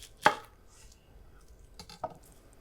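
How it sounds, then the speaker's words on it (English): A knife chops an onion on a cutting board in a home kitchen, two crisp separate strikes about two seconds apart, close and clear with no talk. "You can do a fine chop here. You can do a not so fine chop."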